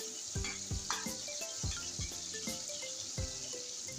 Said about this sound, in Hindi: 2 से 3 मिनट तक इन टमाटरों को इस घी में फ्राई करूँगी।